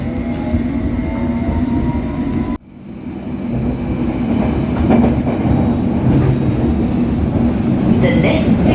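A London Underground Metropolitan Line train to Baker Street rumbles along steadily with rail clatter, briefly dropping out then building back up, as an onboard announcement voice talks over the noise.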